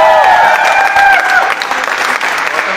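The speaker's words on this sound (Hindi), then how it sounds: "तो मैं चाहता हूं हम सब जोरदार तालियां।" Loud, enthusiastic applause from a crowd at a business celebration event, dense continuous clapping close and strong throughout, with a few whistles or cheers rising briefly at the start.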